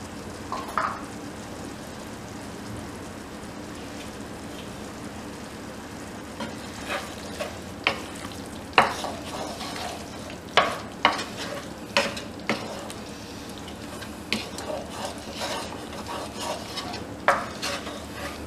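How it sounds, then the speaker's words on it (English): Cream and cherry tomatoes stirred together in a pan over very low heat for lobster pasta: a soft continuous simmer with scattered clicks and scrapes of a utensil against the pan, and no talking. "We're gonna keep this on a really low heat and just mix that through for about another minute."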